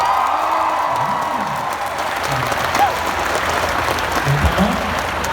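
A seminar crowd bursts into sustained applause with scattered whoops and cheers, while a voice speaks over the noise.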